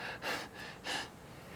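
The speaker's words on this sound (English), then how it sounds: "there's a hyperventilating state where you're fight or flight" A person demonstrates hyperventilating, fight-or-flight breathing: two quick, loud breaths, each a short rushing gasp, close to the microphone with no talk.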